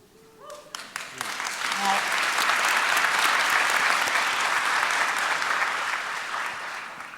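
A lecture audience breaks into applause after a brief voice, the clapping swelling quickly into a full, steady roar that holds, then eases slightly toward the end.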